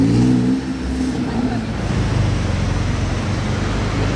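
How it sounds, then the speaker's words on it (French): An Audi RS6 accelerating and revving through Monaco streets, a loud, close engine roar that swells at the start and then holds a steady, throaty drone, with other traffic noise mixed in and faint talk. "c'était Max Verstappen là au volant de la RS6"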